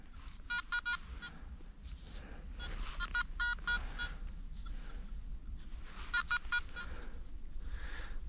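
A metal detector sounds repeated bursts of electronic beeping tones over a forest track, coming in short clustered pulses with rustling and footstep noise between them.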